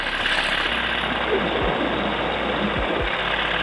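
A small paramotor engine drones steadily and loudly throughout in flight over cornfields, with a constant buzzing roar and faint wind noise, and no break in the sound.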